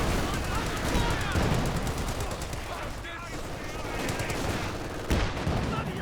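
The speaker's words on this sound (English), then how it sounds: "Sniper picking some nice shots." Sniper and rifle fire in a Company of Heroes 2 battle: steady crackling volleys and machine-gun bursts with a sharp report near the end, heard under a commentator's voice.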